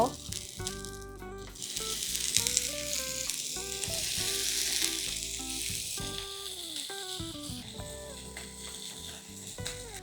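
Bacon-wrapped asparagus sizzles in olive oil in a rectangular cast-iron pan, a steady frying hiss running under background music throughout.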